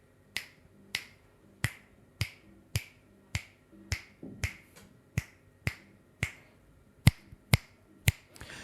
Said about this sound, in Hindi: अगर मैंने साइडों से चुटकी बजाई तो वॉइस कम आ रही होगी, लेकिन जैसे मैंने ऊपर से सामने से बजाई तो वॉइस इसके अंदर काफ़ी आ रही होगी